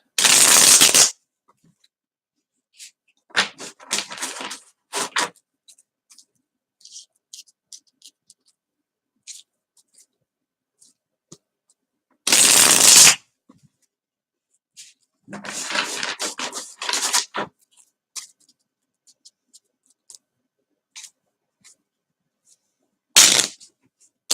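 Tarot cards being shuffled in several separate bursts, each a loud, close riffle or rapid fluttering slide, with quiet pauses and small taps and rustles between them.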